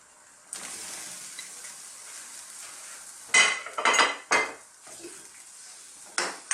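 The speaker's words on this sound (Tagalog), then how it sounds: "So, haluin lang po natin." Ground beef and bottle gourd being stirred in a frying pan with bay leaf, giving a soft sizzle broken by several sharp clinks and scrapes of a utensil against the pan, close and clear with no talking.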